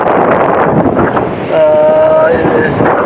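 Strong wind blowing across open rice fields buffets the microphone in a loud, continuous rush, with a faint whistling tone rising briefly in the middle.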